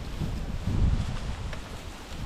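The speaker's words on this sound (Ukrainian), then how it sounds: "Вітер задуває, звісно, страшно." Strong wind buffets the microphone during a ride outdoors, a steady low roar with gusty swells and no voices.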